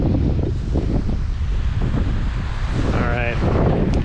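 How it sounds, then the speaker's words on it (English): Strong wind buffets the microphone on a snowy mountain at Baldy, a steady, loud roar with gusty rumbling. A faint voice briefly cuts through near the end. "wind is ripping up here"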